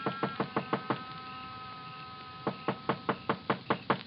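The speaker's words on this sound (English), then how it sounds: "I knocked." Firm knocks on a wooden door, staged as a radio drama sound effect, in two bursts of about six evenly spaced raps with a pause between them, close and clear with no voices.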